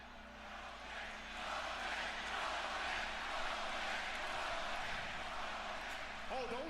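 Wrestling arena crowd cheering for Roman Reigns at a Friday Night SmackDown event, a broad sustained roar that swells after the first second and holds steady, with a voice briefly rising over it near the end.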